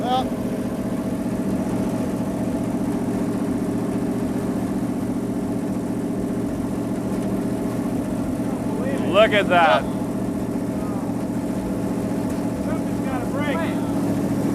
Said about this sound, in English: This engine is running just as smooth as it did a minute ago.